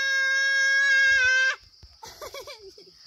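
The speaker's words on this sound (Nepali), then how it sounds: "यहाँ माथि चाहिँ बाख्रा गएको छ कि" A goat bleats loudly and close by in a long, drawn-out wavering cry, then gives a second, shorter broken bleat after a brief pause.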